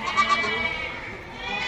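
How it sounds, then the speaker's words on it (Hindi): A goat at the Deonar livestock market bleats in a few short wavering cries near the start, with crowd murmur and background market noise continuing after. "ये एक बकरा देखे आपको"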